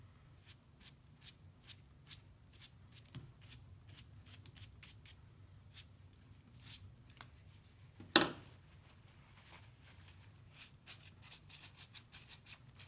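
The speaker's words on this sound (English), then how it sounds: "This is my dry paper towel right here that's creating this texture." Soft, dry taps and scratches from a dry paper towel dabbing texture onto painted paper repeat faintly and irregularly, with one sharper, louder dab partway through.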